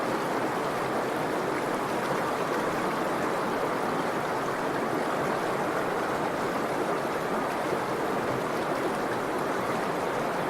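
Flowing water in a video game makes a continuous, even rush like a stream or small waterfall, steady and unbroken throughout with no talking.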